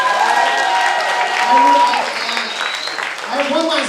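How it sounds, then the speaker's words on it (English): Audience applause at an open mic showcase for a group of performers, moderate clapping mixed with tonal music or singing lines that ring over it, sustained across the stretch. "let's give a huge round of applause for these guys"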